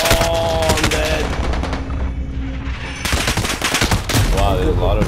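Rapid automatic gunfire from the video game Call of Duty: Modern Warfare, loud and close, with dense bursts filling most of the clip and a brief lull partway through.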